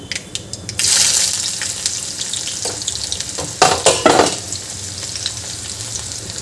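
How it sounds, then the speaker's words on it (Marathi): Onion drops into hot oil tempered with cumin and mustard seeds, bursting into a loud close sizzle that settles into steady frying, punctuated by a few stirring clatters. "यामध्ये आपल्याला कांदा घालायचा आहे."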